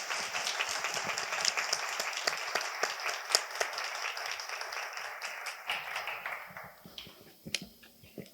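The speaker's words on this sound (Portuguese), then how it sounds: "Uma salva de palmas ao irmão Afonso Murad." Audience applause at a Mariology symposium: a moderate crowd of hands clapping with distinct individual claps standing out, thinning gradually into scattered final claps as it fades.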